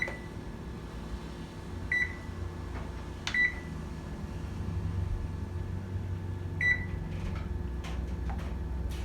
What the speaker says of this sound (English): Now I'm just gonna put this in the oven, covered